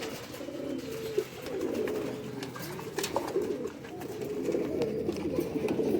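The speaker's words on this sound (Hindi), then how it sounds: "ये वो कबूतर हैं जो बुलंदी पे उड़ते हैं" Pigeons, high-flying breed, coo softly and repeatedly nearby, low throaty murmurs overlapping one another with a faint background hiss.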